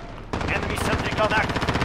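An enemy sentry gun in a video game fires a sudden, loud, rapid burst of automatic gunfire that continues as a dense rattling stream.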